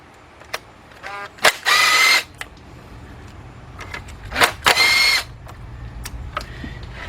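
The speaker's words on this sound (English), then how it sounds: "I got my 10mm shallow 3/8 drive, my cordless impact, and that's all you do is go around, take off all 4 bolts." A cordless impact wrench with a 10mm shallow 3/8-drive socket zips out oil pan bolts on a 2005 Cadillac CTS 3.6, in two short, loud whirring bursts close by with quiet shop noise between.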